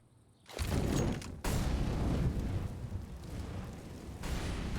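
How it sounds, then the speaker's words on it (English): An incendiary grenade bursts into flame during a professional Counter-Strike match on the Inferno map, a loud whooshing fire roar that swells after a brief gap and keeps burning steadily. "Perfectly timed incendiary from Simple"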